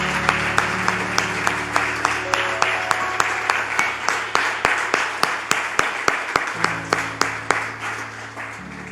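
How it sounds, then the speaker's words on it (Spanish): Congregation in a Spanish-speaking church applauding, with sharp, regular claps landing in a steady rhythm over sustained organ-like tones and room sound, fairly close and loud throughout. "Le damos un aplauso al Señor."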